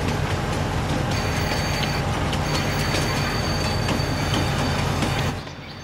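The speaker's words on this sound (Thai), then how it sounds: "โอ้ยรถไฟไม่หยุดนะ" Train running in the video game Farming Simulator 19, a loud, continuous rumble with rhythmic rail clatter and faint wheel squeal, close and alone, fading slightly at the end.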